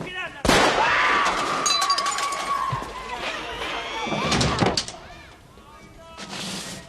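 A gunshot in a film scene, a sharp loud blast followed by a long ringing, echoing tail with whooshing movement, then a second burst near the end.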